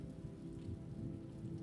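Steady rain falls on stone surfaces at night, a dense, even hiss of drops with a soft low rumble beneath, continuous and calm throughout.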